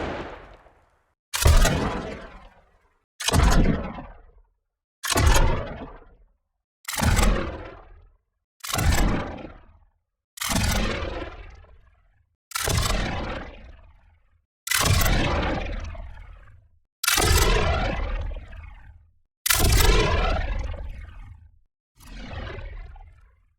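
A weapon sound-design layer, time-stretched and heavily distorted: eleven roaring, crunchy blasts, each hitting hard and then decaying, separated by short silences at a fairly regular pace.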